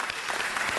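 Short burst of audience applause at a city council meeting, dense and steady clapping from a room full of people for under a second.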